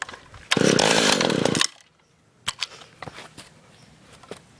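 A Stihl chainsaw fires up with choke on and runs loudly for about a second before cutting out, followed by quieter clicks and handling noises.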